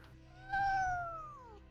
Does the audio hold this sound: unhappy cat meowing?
yes